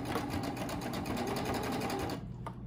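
A Baby Lock serger stitches a knit fabric mask, a fast, rhythmic mechanical whirr of needles and loopers running close and steady for about two seconds before stopping.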